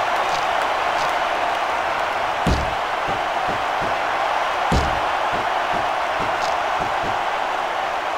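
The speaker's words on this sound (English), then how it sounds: "It sounds like this capacity crowd has something on their minds, Taz." Arena crowd in the wrestling video game SmackDown vs Raw 2006, a steady dense roar of a capacity audience with occasional sharp slams and thuds from the ring.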